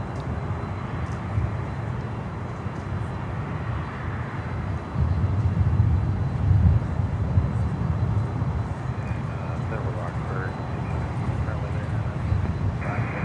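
An airliner's jet engines roar steadily at Miami airport as it taxis toward the runway for takeoff, with the engine noise swelling midway while people talk excitedly over it.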